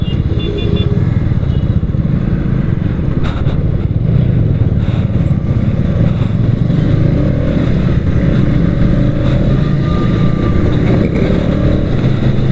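A KTM Duke 200 BS6 motorcycle rides through a street, its engine droning steadily and close throughout with a constant, even rumble and no talk over it.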